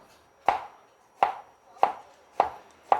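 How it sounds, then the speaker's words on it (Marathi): A knife chops sharply through ridge gourd onto a board, five crisp cuts at a steady, unhurried pace, close up with no voices. "गिलकं घ्यायचं आणि त्याला असं मधोमध कापून घ्यायचं"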